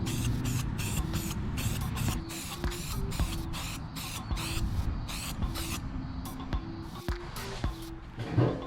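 Aerosol red paint hissing steadily as a valve cover from a Nissan 240SX is spray painted, with a continuous nearby spray broken by short pauses between passes.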